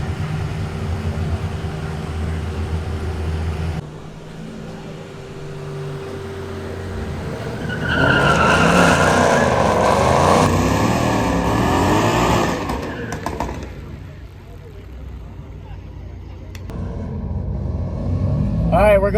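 A Roush supercharged Mustang and a dual-pulley Audi S4 drag race, their engines droning steadily, then swelling into a loud roaring surge midway before easing off and building again.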